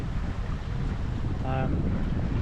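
Steady wind rushes over a sailboat at sea off the north coast of Spain, a continuous loud roar with gusty buffeting across the microphone and no talk.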